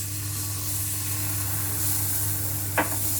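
Water being stirred into muhlama cooking in a pan, a soft continuous hiss and low simmer with one brief clink near the end, fairly quiet and without talk.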